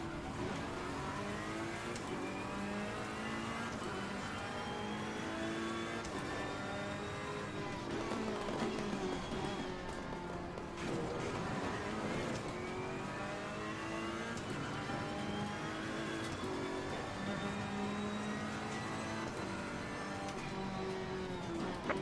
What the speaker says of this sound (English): Faster car coming up behind.